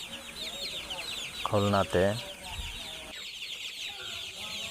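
Sonali super hybrid hens and chicks at a farm market in Phultala, Khulna cluck and cheep softly throughout, with a couple of louder, sharper hen calls near the middle, under a man's speech.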